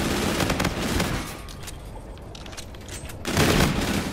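Gunfire in Call of Duty: Infinite Warfare, with loud, rapid shots in two dense bursts separated by a quieter stretch of scattered reports.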